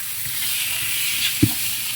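Tofu curry frying in a pan with coconut, giving a steady, close, loud sizzle throughout, with one soft knock partway through.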